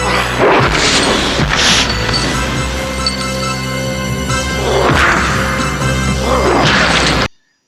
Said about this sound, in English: now we have broken glass